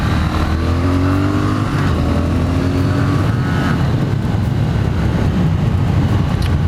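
A 2018 Triumph Thruxton motorcycle engine drones steadily and loudly while riding through corners, mixed with heavy wind rush, with the pitch rising and settling as the rider leans the bike.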